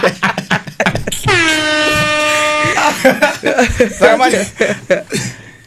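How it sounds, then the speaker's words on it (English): Car horn hooting steadily for about a second and a half during an emergency drive, loud and close, with people talking excitedly before and after it. "So she's hooting."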